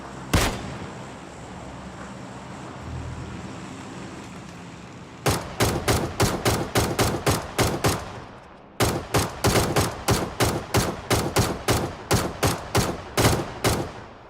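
Bursts of ACE rifle fire from the video game PUBG: a single loud shot, then two long strings of rapid, evenly spaced automatic shots, close and dominant with no talk.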